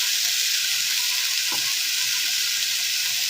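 Steady hiss of oil frying in a pan as turmeric and torn green chillies are added, a constant bright sizzle with one brief stir-like thump near the middle and no talk.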